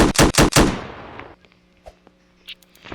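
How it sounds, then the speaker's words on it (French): Pistol gunfire in a horror video game, three loud sharp shots in quick succession followed by fading echoes and faint clicks and thuds from the game. "Tire avec le pistolet."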